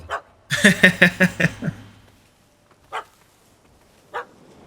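A dog barks in The Witcher 3: Hearts of Stone: a quick run of about six loud, close barks, then two single barks spaced apart after a short pause.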